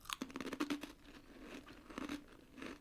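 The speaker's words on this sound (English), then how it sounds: "the size makes them like a perfect crunch" A thin biscuit is crunched and chewed right up close, with a run of crisp, brittle crackles in quick clusters and quieter chewing between them.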